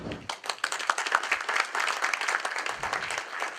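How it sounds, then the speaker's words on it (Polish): A conference audience in a hall applauds the event's sponsors, a moderately near, lively spatter of many hands clapping that swells and dips across the short stretch without speech. "prosiłbym o brawa dla sponsorów"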